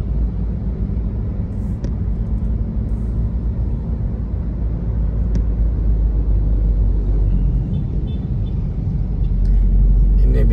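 Traffic rumbles along Jalan Pangeran Pettarani in Makassar during the Eid holiday, a dense, continuous low drone of engines with occasional faint higher clicks, steady throughout and slightly louder near the end.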